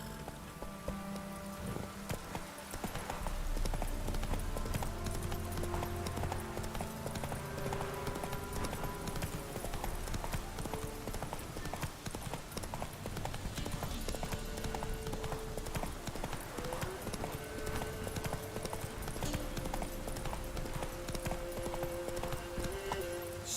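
Roach the horse trots in Witcher 3, a steady clip-clop of hooves running throughout over a layered game music bed, close and continuous.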